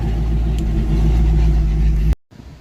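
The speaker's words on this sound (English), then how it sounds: "That ever so slight engine miss is even more prevalent with the open exhaust" A 1994 GT convertible idling with open exhaust and a slight engine miss, a loud, steady, close rumble that cuts off abruptly near the end.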